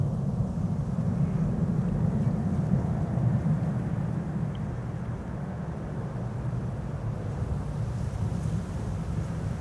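A Delta Airlines airliner touches down on runway 18R at Schiphol. The sound is a steady, loud, low-pitched roar of engine and rushing air that holds evenly with no break, with no voices.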